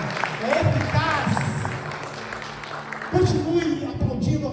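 A church congregation claps for Jesus during an evening service, with a burst of applause rising under a preacher's voice and swelling near the end.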